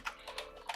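Quick typing on a computer keyboard during a live gold trading session: a few brisk keystrokes, close and clear, with no talk over them.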